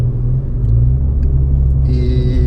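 An Italika 150SZ motorcycle engine with a worn bronze clutch bushing runs at idle, giving a loud, steady low rumble, close by, with a rattling higher tone joining near the end.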